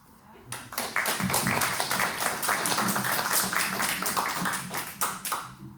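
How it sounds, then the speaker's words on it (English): Audience applause at a music showcase performance, a dense burst of many hands clapping that swells after a brief pause and holds steady at full volume, fading slightly at the end. "I think you deserve a round of applause."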